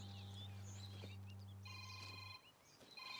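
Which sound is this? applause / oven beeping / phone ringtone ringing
phone ringtone ringing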